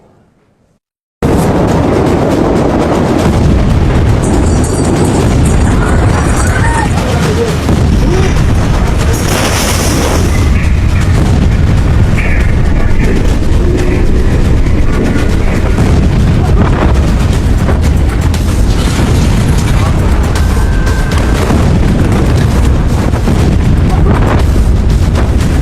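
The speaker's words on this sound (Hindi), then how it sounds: "ऐसा ब्लास्ट जिसे कभी नहीं पाएंगे भूल।" A huge blast in a war zone, a sustained loud roar of rumbling explosion and debris lasting over twenty seconds after a short quiet start, dense and overwhelming throughout with no clear speech.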